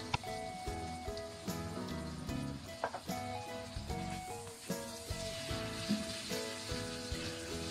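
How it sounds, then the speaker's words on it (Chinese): Shrimp simmering in sauce over medium heat, a steady soft bubbling sizzle running throughout at low level, mixed with faint background music and no speech. "保持中火，再烧3分钟，这样虾就更加的入味儿了"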